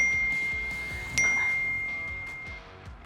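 A phone message notification ding sounds once, a bright single chime that rings briefly and fades over a quiet indoor background.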